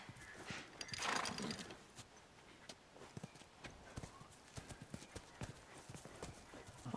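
Horse hooves clip-clop steadily at a walking pace in the video game The Last of Us Remastered, close and fairly crisp, with a brief rustling swell near the start and no speech.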